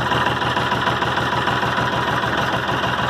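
A Ford Jubilee tractor engine idles on a cool morning, a loud, steady, close-up chugging with an even rhythmic knock and no pauses.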